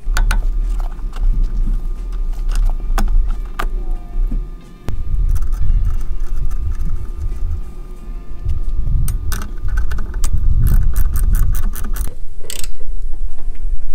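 Bolts being tightened down on the wiper arms of a BMW F30 while fitting the windshield cowl, giving repeated close mechanical ratcheting and clicking over a steady low rumble of workshop background, with no talking.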